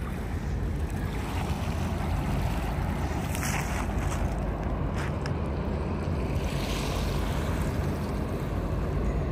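Wake waves from the passing lake freighter James R Barker wash ashore at Pointe Louise, a steady loud rushing surge mixed with heavy wind buffeting the microphone.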